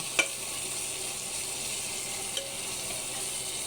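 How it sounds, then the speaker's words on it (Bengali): Onions fry in a pan for mutton kosha, a close, steady crackling sizzle with a sharp utensil tap near the start and another faint knock later, no talking. "আর এখানে চলছে পেঁয়াজ ভাজাভাজি।"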